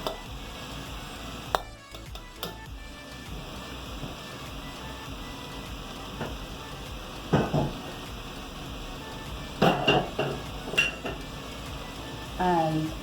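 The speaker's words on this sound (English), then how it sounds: "When all of the rice is added, just loosen back up your rice." A spoon scraping and clanking against a pan while loosening and spreading cooked rice mixed with saltfish, scattered sharp metallic knocks over a quiet background, a few louder clusters of clatter near the end.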